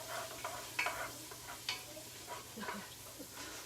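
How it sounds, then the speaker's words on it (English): Mulligatawny soup stirred in a pot on a home stove, with soft scraping and clinking strokes at an unhurried pace over a low, steady sizzle. "Stir this together here."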